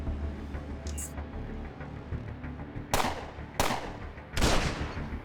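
Flashbang grenades going off in the game Underrail: three sharp, loud bursts of noise with short hissing decays, spaced about a second apart, over a low steady background hum.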